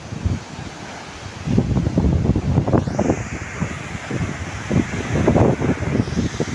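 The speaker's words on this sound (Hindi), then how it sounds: "और यहाँ पे हवा चल रही है बहुत तेज" Strong wind roars and buffets the microphone in uneven gusts, with rustling underneath and a faint high whine in the background. Nobody speaks.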